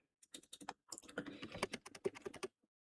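Keys tapped on a computer keyboard while typing a search into a hotel reservation app, a quick burst of close clicks that speeds into a denser run, then stops.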